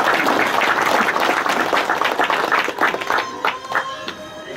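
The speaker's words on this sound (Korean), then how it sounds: "다시 한번 박수 부탁드립니다" Warm round of applause from a ceremony audience in a hall after a chairman's greeting, steady hand clapping for a few seconds that loosens into scattered claps and murmuring voices.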